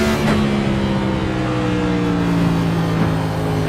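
A race car engine holds full throttle down a stadium track backstretch in fifth gear, a loud steady drone with rising harmonic pitch, continuous and close with no voices over it.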